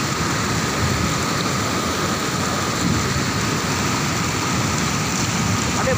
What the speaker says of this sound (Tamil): அங்கே ஊற்றுறது சாரல் மாதிரி வருது பாருங்க தண்ணி.